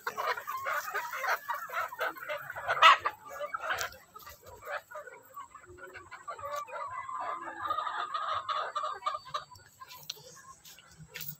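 Chickens in a neighbouring coop cluck and murmur continuously at moderate distance, with one sharper call standing out briefly and faint background rustle.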